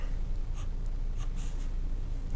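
A pencil stipples on paper while drawing a caricature, a steady close scratchy rasp broken by a few sharp tapping dots as the point strikes the page.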